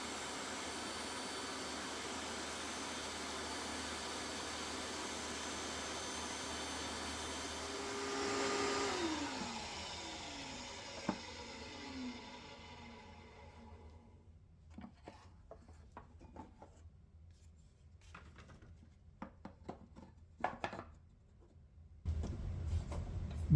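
A Dewalt table saw runs with a steady loud whine as its spinning blade is slowly raised through a new zero-clearance throat plate. The motor then spins down and faint clatters and handling noises follow.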